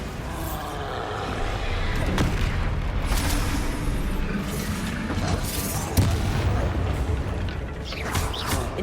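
Rumbling booms and crashing blasts from the Bombardo explosion spell in Hogwarts Legacy roll through dense, noisy combat, several heavy hits spaced a second or two apart.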